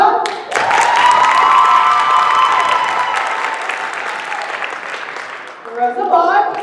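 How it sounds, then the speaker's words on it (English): An audience applauds at a theatre production of The Mystery of Edwin Drood, with loud sustained clapping and some cheering. A voice speaks over it, then the clapping fades near the end. "Now it's time to clap and vote."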